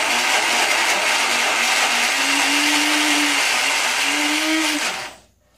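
A blender whirs loudly as it blends a popsicle smoothie, its motor note rising and dipping for about five seconds before it cuts off abruptly.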